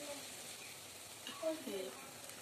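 Soft, low sizzle of egg fritters frying in oil with a few faint bubbling pops, quiet and close.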